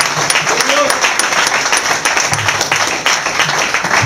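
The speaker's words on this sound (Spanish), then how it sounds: "¿Quieres aplaudir?" Church congregation applauding together, a dense steady patter of many hands clapping that fills the room at even loudness from start to finish.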